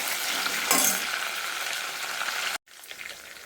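Garlic frying with chilli pieces in a pan for a tempering for tomato dal, a loud, steady hiss of sizzling oil broken by a brief gap and a slightly quieter continuation.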